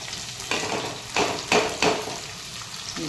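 Okra is added to hot oil in a pan and stirred, producing a loud continuous sizzle with several bursts of scraping and stirring, close and without speech.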